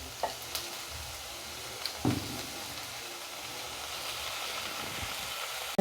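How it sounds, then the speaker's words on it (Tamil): Two tablespoons of rinsed chana dal are stirred with vegetables in a hot pan, a faint, steady sizzle with a few soft scraping knocks from the spoon near the start. "நல்லா கிண்டி விட்டு விடலாம்."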